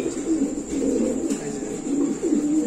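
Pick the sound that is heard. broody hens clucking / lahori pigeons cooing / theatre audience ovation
lahori pigeons cooing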